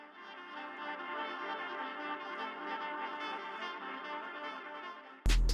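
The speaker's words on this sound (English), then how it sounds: "these saxophones kind of playing this nice atmospheric loop" Atmospheric saxophone loop sample with sustained, layered reedy tones swelling softly and evenly, ending in an abrupt loud burst.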